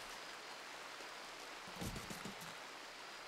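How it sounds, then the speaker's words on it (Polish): Steady rain falls in the video game RimWorld as an even, constant hiss, with a slightly louder, busier patch of drops around the middle and no voices. "Deszcz pada, nie fajna pogoda w naszej giereczce dzisiaj."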